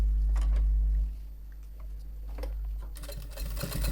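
A sewing machine stitches a sari cover in a loud steady motor hum with rapid clattering needle ticks, easing to a lighter running rhythm before picking up again.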